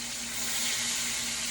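Chicken wings frying in a pan in a home kitchen give off a steady, close, even sizzling hiss that holds without a break for the whole short stretch.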